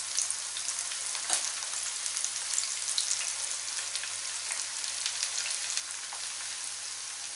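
Okra pieces fry in hot oil for a crispy bhindi fry, giving a steady, close, crackling sizzle with tiny pops scattered throughout and no talking.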